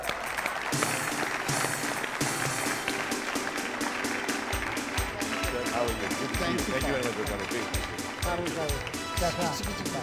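A talk-show audience bursts into dense, sustained clapping to welcome a guest on stage, the applause swelling and continuing under a host's voice.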